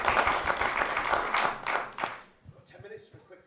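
A panel discussion audience claps in a brief burst of applause that thins out into a few scattered claps, with a voice talking faintly as it fades.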